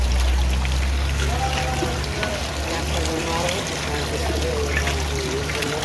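Natural spring water from a mountain stream along the Babusar Top to Chilas road flows and splashes steadily nearby, with a continuous rushing wash under people talking.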